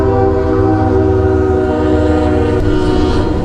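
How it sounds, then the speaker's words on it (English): A loud train rumbles past close by in Cartersville, Georgia, its horn sounding with steady tonal blasts over heavy rolling noise, with no pause throughout. "Great, train coming"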